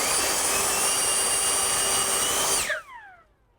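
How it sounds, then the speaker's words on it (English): A handheld leaf blower runs steadily at full power with a loud, whining roar, then spins down quickly and the pitch falls away near the end. "I'm going to blow this for a few seconds"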